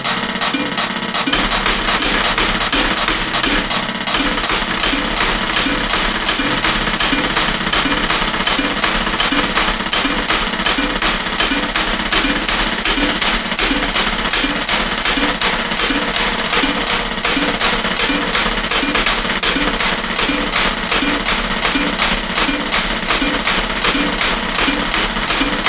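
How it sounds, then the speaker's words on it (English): A 1990s Roland R8 drum machine plays fast snare drum rudiment patterns, a loud, dense and relentless stream of rapid mechanical hits with no pauses. "I'm having to reprogram an old drum machine, same R8 from the 90s"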